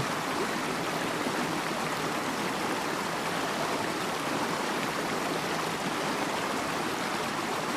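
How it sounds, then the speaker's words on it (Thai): A mountain stream rushes at the entrance to Huai Nam Jon waterfall in Nakhon Nayok, Thailand, giving a dense, even roar of flowing water that stays constant and fills the whole clip, with no voices. "จุดนี้ก็คือจุดที่เรียกว่าทางเข้าน้ำตก ห้วยน้ำโจร"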